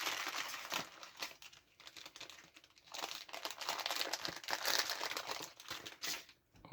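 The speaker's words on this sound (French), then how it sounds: "Alors, on va ouvrir notre sachet" A plastic parts bag from an Iron Spider-Man building kit torn open and handled up close, crinkling and rustling in uneven bursts with brief pauses.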